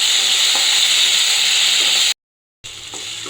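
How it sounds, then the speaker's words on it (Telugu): Tomatoes frying with green chillies, garlic and curry leaves give a steady, close, bright sizzle that cuts out briefly to silence near the end before resuming. "సన్నగా కట్ చేసింది టమాటా సహా వేసి బాగా సాఫ్ట్గా ఫ్రై చేసుకుంటాం"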